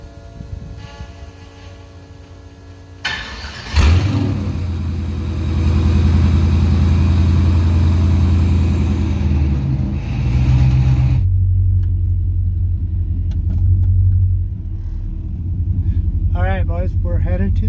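LS-swapped Chevy S10 pickup engine cranks and fires, then settles into a loud, rough idle with rises in revs before dropping back; a voice is heard talking near the end.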